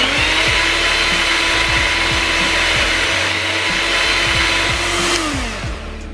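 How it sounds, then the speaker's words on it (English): An electric hand mixer beats maple syrup and avocado oil together, a loud steady whirring drone with rhythmic scraping taps as the beaters knock the bowl, winding down at the end. "You want to beat the liquid ingredients until they're nice and light and frothy."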